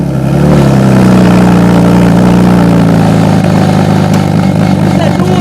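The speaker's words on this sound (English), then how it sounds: "What's that noise? What is that? Is that from the engine?" A drift car's engine drones loudly and steadily from close by with an odd, unusual rumbling tone, while a person talks over it.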